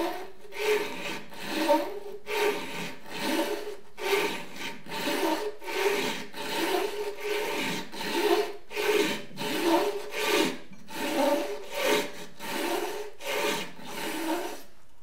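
A kitchen knife is drawn repeatedly through the pink fine-grit ceramic wheel of a Global MinoSharp water sharpener, giving a steady rhythmic grinding rasp, roughly one stroke per second, close and alone.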